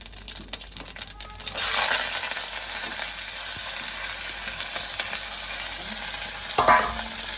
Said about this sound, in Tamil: போட்டு நல்லா அதை வதக்கிடுவோம். நல்லா வதங்கட்டும்.